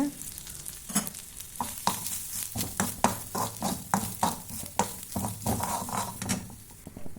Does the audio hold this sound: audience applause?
no